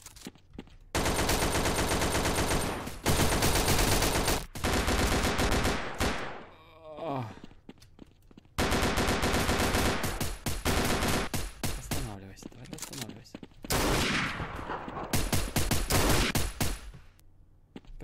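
A green assault rifle firing in the game Kubum, long loud bursts of rapid automatic fire that break off into short pauses and then start again, with clipped sound effects between the bursts.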